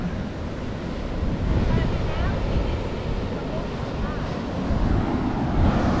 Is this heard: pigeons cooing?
no